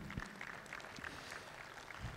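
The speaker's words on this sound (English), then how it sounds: "So one round of applause for Stuti and her team." An audience at a talk on readying children for 2035 gives a short burst of applause for Stuti and her team, a soft, fairly distant patter of clapping.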